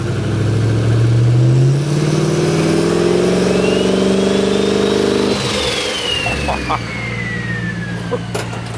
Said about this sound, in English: Would you mind just giving it a rev?